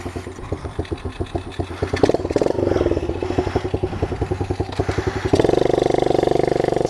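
A Kawasaki KLX 110 pit bike engine running close by with an uneven, bogging putter that rises and falls, chugging in rapid pulses before revving more steadily near the end, with no talking.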